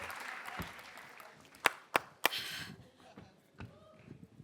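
Three sharp hand claps in quick succession, crisp and fairly close, over a soft room murmur on a comedy show stage.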